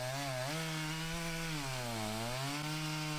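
An Echo chainsaw cuts through large logs up to two feet in diameter, giving a loud, steady engine whine whose pitch dips and rises as the chain bites into the wood.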